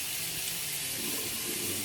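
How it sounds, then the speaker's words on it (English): A razor is rinsed under a running bathroom tap, with a steady close hiss and splash of water that lasts the whole time and has no talking over it. "Let me rinse the razor."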